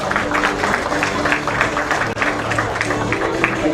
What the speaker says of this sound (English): Please have a huge round of applause for Bhaichung sir.